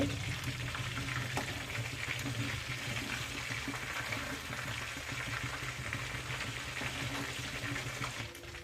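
Egg-coated chicken frying in butter in a kadai, foaming heavily, makes a dense, continuous bubbling sizzle close up that holds steady throughout and fades slightly at the very end.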